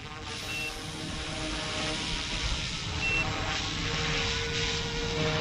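A WOLFBUSH Airwolf AW-911 RC helicopter flies outdoors about 20 meters away, giving off a constant buzzing rotor and motor whine that stays fairly loud and steady, with no voices.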